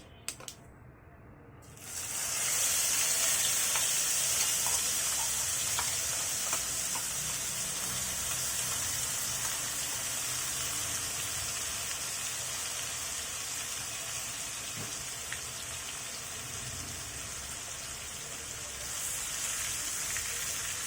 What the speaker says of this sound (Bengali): এগুলোকে ভালোভাবে কষিয়ে নেব যতক্ষণ পর্যন্ত না এর কাঁচা গন্ধটা দূর হয়